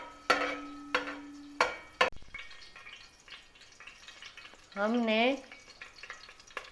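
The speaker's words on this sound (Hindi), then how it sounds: "इलायची को भी थोड़ी देर गरम करेंगे घी के साथ।" Cardamom pods sizzle softly in hot ghee in a pan, punctuated by a few sharp utensil clinks, with a short burst of speech near the end.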